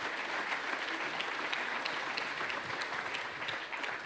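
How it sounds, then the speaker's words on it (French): A full auditorium applauds the CEO of EDF after an interview, giving a dense, steady wash of clapping that holds at an even level for about four seconds. "Et déjà, on va vous applaudir"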